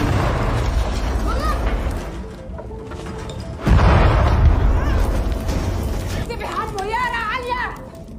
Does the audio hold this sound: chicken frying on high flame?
no